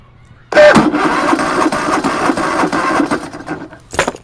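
Go-kart engine turning over on a weak, low battery, a sustained rough churning crank lasting about three seconds close to the microphone, followed by a brief second burst.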